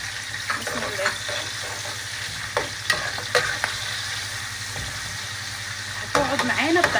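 Pieces of beef fat, then Alexandrian-style liver, sizzle steadily in a hot pan, with occasional stirring scrapes and clinks against the pan, close and continuous.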